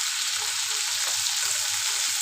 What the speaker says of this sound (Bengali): দেখো মাছগুলো আমার ভাজা হয়ে গেছে